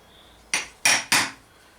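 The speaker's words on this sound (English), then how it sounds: "remember it's a chisel, it's not a crowbar, and the first thing to do is just walk your way around the edge, marking" A chisel marks the edge of a wooden dishing stump with three sharp, close knocks in quick succession, each decaying briefly into quiet.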